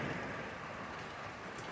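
Steady rain falls outside a barn where horses are kept, a soft continuous hiss of drops with no talking.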